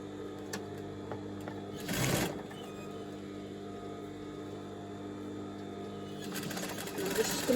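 A sewing machine runs steadily at close range, stitching the hem fabric cut from a maxi dress, with brief handling noises of the cloth as it is turned.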